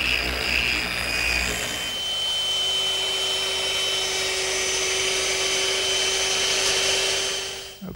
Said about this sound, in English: I don't want to rush this sanding step because the smoother and more even I get all these joints